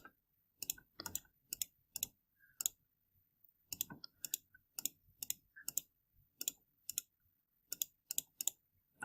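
Calculator keys tapped in short bursts of quick plastic clicks, small clusters separated by brief pauses, close and fairly quiet against near silence.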